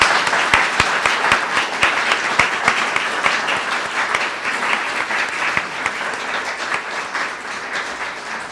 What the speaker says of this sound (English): Can we give a round of applause to our wonderful panelists,